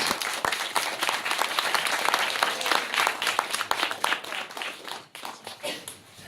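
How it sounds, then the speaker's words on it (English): Wedding guests break into a sustained round of applause at Peter and Natasha's ceremony, dense clapping filling the room for about five seconds before thinning and fading out. "Round of applause for that."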